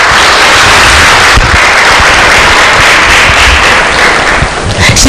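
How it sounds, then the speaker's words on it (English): Audience applause at a Women & Girls in Cyber event at BICC in Lilongwe: very loud, dense clapping from a large crowd, continuous with sharp crackling peaks, with a voice faintly mixed in. "A round of applause."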